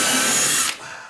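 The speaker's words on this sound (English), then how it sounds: "And I'm gonna choose to not use that drill anymore." A power drill set on high bites into a wooden door with a loud, close, steady whine that cuts off abruptly, leaving a quieter tail.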